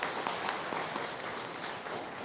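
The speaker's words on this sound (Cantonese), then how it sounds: "我哋都係掌聲嚟到歡迎佢哋" A church congregation applauds at a Cantonese Sunday worship service to welcome new members, with steady, dense clapping from many hands that fills the whole room.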